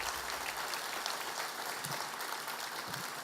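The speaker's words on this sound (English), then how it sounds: "You do deserve a round of applause." Audience applause at a naming ceremony for a university media center, a dense steady wash of many hands clapping continuously throughout, moderately distant.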